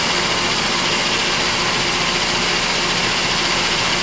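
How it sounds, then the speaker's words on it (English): Machine cutter running with coolant flowing, a loud, steady, dense wash of mechanical noise and hiss with no breaks, close and alone. "cutter's coming in and out of both sides. We got the coolant flowing here."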